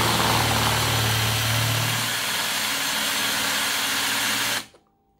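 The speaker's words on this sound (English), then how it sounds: "I've got my drill on reverse." A cordless DeWalt drill running in reverse, drilling out a stripped screw hole with a screw extractor bit; a steady close motor whine with a low rumble of the bit biting at first, then smoother, stopping abruptly near the end.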